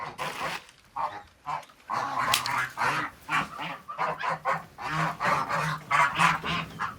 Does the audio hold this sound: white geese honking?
yes